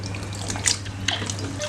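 Water drains steadily through a colander from washed goat intestines, a continuous close trickle and splash with a few brighter drips, and no talking.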